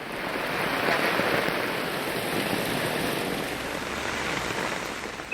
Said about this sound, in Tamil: பலத்த காற்றுடன் கனமழை பெய்தது.